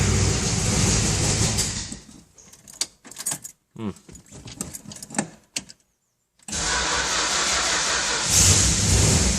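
A 1966 Plymouth Sport Fury convertible is started: a loud, steady engine noise first, then a quiet stretch of keys jangling and clicking. The engine cranks and catches, then settles into a loud, steady idle for the last few seconds.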